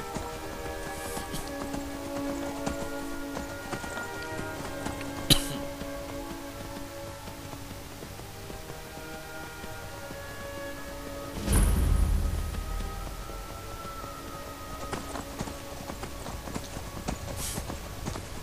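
Horse hooves in the Skyrim video game, a steady faint clip-clop of riding under quiet game music, with a brief louder thump partway through.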